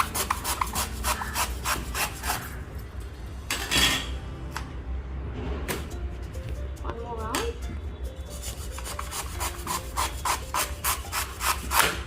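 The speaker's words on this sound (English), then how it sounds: "You have to really put the pressure on the knife to cut it because it's quite hard" A knife saws and scrapes through a hard tropical fruit in repeated short rasping strokes, with pauses, small knocks and clinks against a board or plate, close up and under occasional quiet talk.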